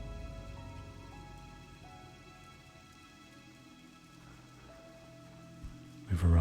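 Steady soft rain falls on a morning in Lordaeron in World of Warcraft, a faint even patter under quiet sustained game tones, ending with a short louder clatter.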